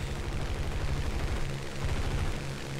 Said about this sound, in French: Il y a un avion en train de me shooter.